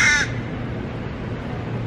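A crow caws once, sharp and fairly close, near Shakespeare's Globe in London, then fades into steady outdoor city background hum.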